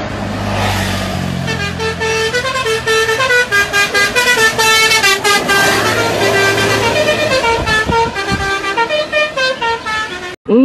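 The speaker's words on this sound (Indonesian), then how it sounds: "Kali ini ada bus NPM" An NPM bus passes close by, sounding a loud melodic multi-tone horn in a long rapid sequence of toots over its rumbling engine.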